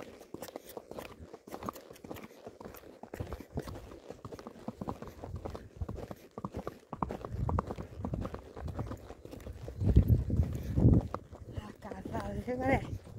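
Horse hooves clip-clop along the ground on a farm as the horses are led away, a steady irregular run of close thuds with louder, rougher stamping near the end while people talk over it.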